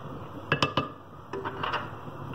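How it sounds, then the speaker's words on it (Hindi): Spoon clinking against a pot while sugar is stirred into carrot halwa: a few sharp, close metallic taps in two short bursts, with no voices. "ये 1 काप जितनी चीनी है ये भी मैं इसमें मिक्स कर दूंगी।"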